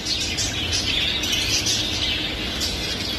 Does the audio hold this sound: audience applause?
no